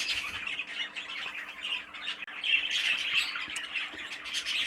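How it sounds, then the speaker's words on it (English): A cinnamon sky blue show bird squawks and chatters continuously at close range, with harsh, scratchy calls in a busy, uneven stream and no talking. "So this is the final bird, this cinnamon light blue or sky blue"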